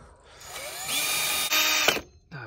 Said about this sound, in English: Oh, darn. I broke a drill bit.